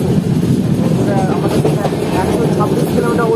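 Loud, steady rumble of the Bolpur Shantiniketan Express running along the rails, heard from on board with a dense low roar throughout and faint rattles on top.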